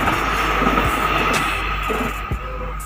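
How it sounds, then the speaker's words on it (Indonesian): An airport train rumbles past nearby with a steady loud roar and a sustained tonal whine, with occasional clanks from the cars. "Terlihat kepala kereta sudah mulai melaju."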